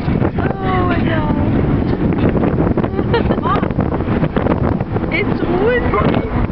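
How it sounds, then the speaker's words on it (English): Steady wind buffets a microphone outdoors on a street, a loud continuous rumbling roar throughout, with voices talking over it. "It's windy."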